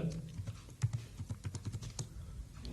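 Quick rapid keystrokes on a computer keyboard, a close run of light clicks with one heavier tap, as if entering code.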